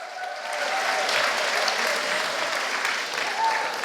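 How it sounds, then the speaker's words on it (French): An audience at a round-table forum on saving the oceans claps warmly, a soft, even wash of many hands applauding in a hall, swelling slightly near the middle and ending abruptly. "applaudissements pour tout le monde"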